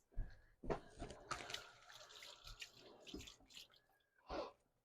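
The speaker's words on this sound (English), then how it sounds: "let me wash my hands" Running water from a faucet splashes over hands being washed while preparing an apple strudel in a home kitchen, a low steady rush with brief louder splashes and faint clatter.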